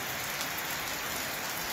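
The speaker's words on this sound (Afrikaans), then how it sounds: "Het reën nou so vir 5 minute. En dit reën nog." Steady rain falls in cold weather at Lüderitz in the far south of Namibia, heard from under a shelter roof as a dense, even hiss of drops on surfaces that holds unchanged throughout, with no talking.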